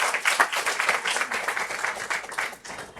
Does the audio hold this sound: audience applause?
yes